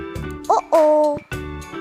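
A cartoon owl gives a few clear, close hoots in a short bright sequence, sounding loud over a steady musical backing from a children's alphabet song.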